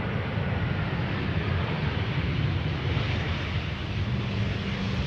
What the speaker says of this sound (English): Oh, ELKX EasyJet arriving from Split in Croatia.